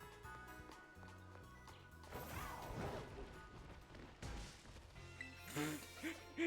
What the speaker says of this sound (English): this sound effect you make for crashing into a person